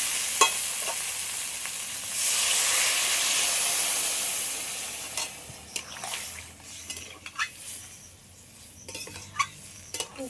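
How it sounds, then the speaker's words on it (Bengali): Water poured into a hot pan of crab and pumpkin curry sets off a loud, rushing hiss that swells and then settles. Stirring clanks and scrapes of a spoon against the pan follow. "এবার আমি জল দিয়ে দেবো"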